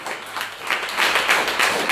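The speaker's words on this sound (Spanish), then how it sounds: "Den un aplauso a Papá Dios" A church congregation claps in applause, a dense close wash of many hands that swells and holds steady for a couple of seconds.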